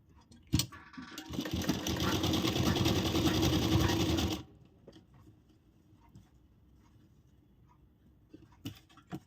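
A sewing machine hums loudly for about four seconds while stitching a blouse's lining and main fabric, then stops, leaving quiet room tone and a few soft handling clicks.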